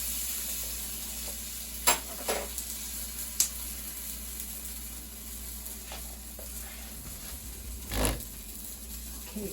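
Bean and cheese quesadilla frying in a pan, a continuous soft sizzle with occasional louder crackles and spatula scrapes, close by and without talk.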